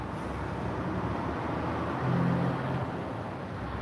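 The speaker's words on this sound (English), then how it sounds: "I'm just going to wait till that truck passes. It sounds kind of loud." A semi truck passes on a nearby road, a steady loud low rumble of engine and tyres that swells slightly midway, with traffic noise throughout and no talk.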